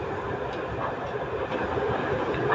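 A steady, loud rumble of an MRT train moving along the rails, a continuous roar heard from inside, with no voices over it.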